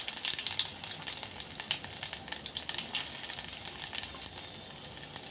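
Ginger hitting hot mustard oil in a pan while making sweet tomato chutney, giving a steady close crackling sizzle with bright spitting pops throughout, no voices.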